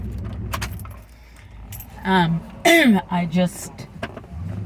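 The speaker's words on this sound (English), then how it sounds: "Let me turn off my truck because it's kind of loud." A set of keys jangles loudly in several close, bright bursts while a loud pickup truck's engine is shut off and its low idle fades beneath, and a voice is heard briefly.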